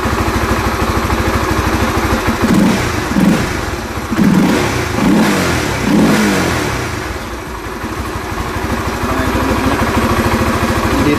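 A GTR Supra 150 motorcycle fitted with a mushroom power filter is revved in several close, loud bursts over a rough idle, the intake note rising and falling before settling back to idle.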